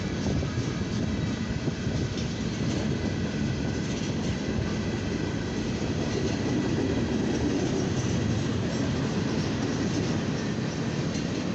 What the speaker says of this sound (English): this is a long coil CSX northbound train here on track one